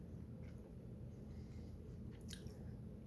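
Crunchy fried chicken being chewed close to the mic, with faint, soft squishy bites over a steady low background hum and no talking.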